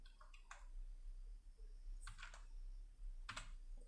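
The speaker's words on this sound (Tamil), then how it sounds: "ஹிஸ்ட்ரி அப்படின்னு டைப் பண்ணுறேன்." Short bursts of clicking keystrokes as a command is typed on a computer keyboard in a Kali Linux terminal, with three quick clusters separated by pauses, close and quiet over a low hum.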